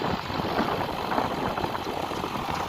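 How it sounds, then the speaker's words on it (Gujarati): A JCB backhoe loader's diesel engine runs steadily while loading black soil into a tractor trolley, a close, rumbling chug with slight knocking pulses throughout. "જેસીબી જો ચાલુ છે અત્યારે"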